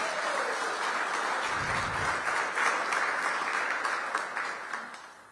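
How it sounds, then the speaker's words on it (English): Dense, sustained applause rises for public works sanitation crews at a city government agreement signing, a broad wash of many hands clapping at a distance. It holds steady, then slowly thins and fades toward the end. "Give DPW a big round of applause."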